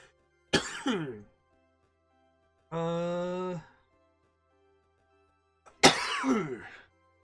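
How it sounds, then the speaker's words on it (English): Two harsh coughing bursts separated by a drawn-out, voiced throat-clearing sound, close up with silence between them. "I cannot seem to stop coughing."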